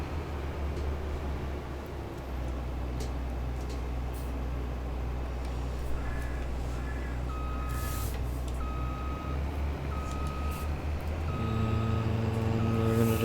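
A combine harvester fitted with a Honeybee header backs up slowly. Its loud, steady engine drone and rumble are joined midway by evenly spaced, high reversing beeps that continue to the end.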